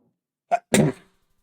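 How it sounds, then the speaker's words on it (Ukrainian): A single person's sneeze, close and loud: a short sharp intake burst followed by a fuller explosive release, then silence. "Чихнути хочу."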